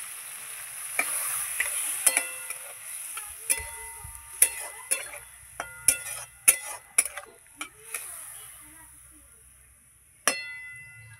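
Spoon scrapes and clinks against a pan of fish curry as water goes in and the mixture sizzles softly, with repeated sharp metallic taps spaced irregularly across the stretch.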